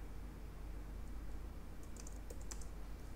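Quick, light keystrokes on a computer keyboard while entering code, a faint cluster of taps in the second half over a steady low hum, with no voices.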